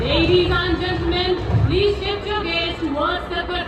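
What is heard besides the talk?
No everyday noise stands out behind the speech.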